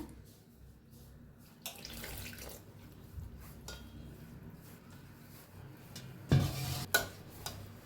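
Soft wet squelching and stirring as dough for pea kachori is kneaded, with a brief splash of water and a couple of knocks near the end.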